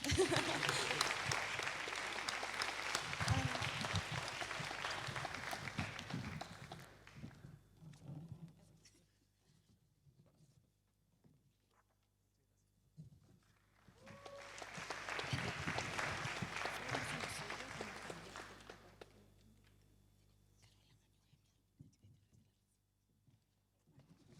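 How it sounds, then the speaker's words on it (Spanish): An audience at a health conference session in Chile breaks into applause twice, each burst of clapping swelling and fading, separated by a quiet stretch with faint voices. "Aplaudan, aplaudan."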